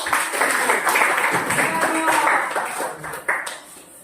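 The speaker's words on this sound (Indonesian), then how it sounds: "Tepuk tangan buat kelompok Sutarno." Classroom applause for a student group about to present its discussion results, a burst of mixed clapping that fades after a few seconds, with a few scattered claps trailing off at the end.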